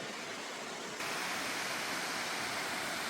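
The Güzelcedere waterfall's steady, loud rushing roar, continuous broadband water noise that swells slightly after the first second, with no voices.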